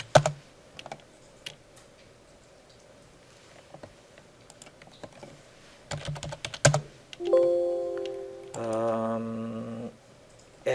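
A command is typed on a computer keyboard in a CAD program, scattered close key clicks, with a louder burst of taps near the middle, followed by brief electronic tones.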